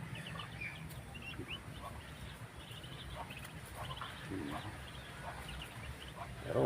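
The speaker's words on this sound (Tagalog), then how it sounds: "mga inahin." Hens in a backyard flock cluck softly and intermittently in the background, with faint low ambient noise and occasional quiet voices nearby.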